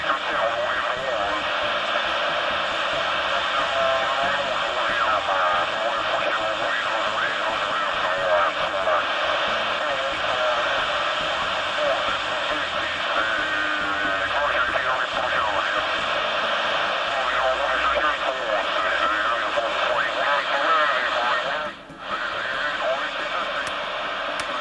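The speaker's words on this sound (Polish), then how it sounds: "Chyba mamy dobrą propagację, słychać stacje zagraniczne" A CB radio picks up distant foreign stations, a steady hiss of static with faint, warbling voices threaded through, and a brief dropout near the end.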